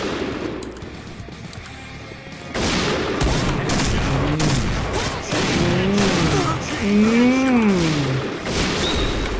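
Rapid automatic AK-47 fire in the shooter game Point Blank, dense crackling bursts over game noise with rising and falling whooshing tones, loud and continuous after a quieter start.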